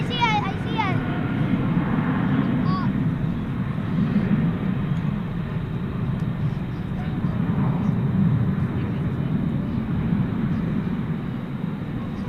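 An American Airlines Boeing 737 MAX 8 rumbles at DFW Airport at night, a steady broad engine roar from a moderate distance with a voice talking over it.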